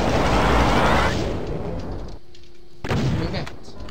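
Rapid energy blasts from a plasma gun in Doom TNT Evilution roar in a loud dense burst, fade, then one more sharp shot cracks near the end.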